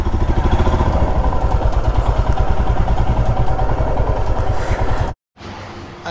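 A Royal Enfield Himalayan motorcycle engine runs loud and close with a steady throbbing idle while being parked at a garage in Ladakh, then cuts off abruptly near the end.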